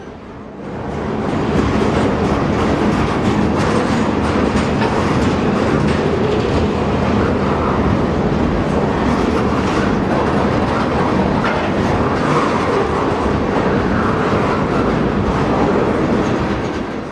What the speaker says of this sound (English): This train has a consist of locomotives, boxcars, and tank cars.